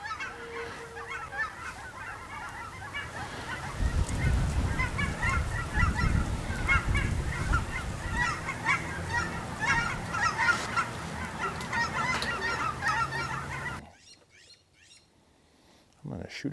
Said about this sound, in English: I wonder if you guys can hear the geese or not.